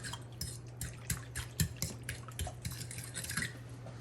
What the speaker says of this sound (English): I'm gonna go ahead and mix that up a little bit.